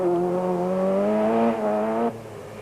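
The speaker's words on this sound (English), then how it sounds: "Johan Clements and Brian Duncan also in a Class A two-wheel drive Toyota Conquest" A Class A two-wheel drive Toyota Conquest rally car drives a forest stage, its engine note rising through the revs before dropping off abruptly as it lifts off the throttle.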